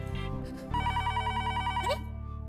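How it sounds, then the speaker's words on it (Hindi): A home telephone rings with a loud, steady electronic tone that cuts in after a brief moment and continues for over a second above a low musical background. "अरे, टप्पू के पापा ने सामने से फोन किया।"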